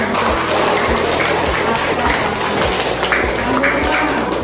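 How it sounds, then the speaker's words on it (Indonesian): Fifth-grade classroom pupils clapping after a lesson on the hajj, a dense, rapid patter of many hands that stays steady and loud from start to finish, with no voices over it. "Ayo tepuk tangan"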